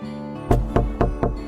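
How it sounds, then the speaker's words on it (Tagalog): Knocking on a door: four firm, evenly spaced knocks, close and clear, each with a short resonant ring, coming after a brief quiet start and with no talking. "Akala ko asawa ko yung kumakatok eh"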